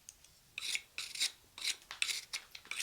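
Sandpaper rubbed over a hand-carved wooden coffee scoop in short back-and-forth strokes, about six close, dry rasping passes in a steady rhythm with no talking.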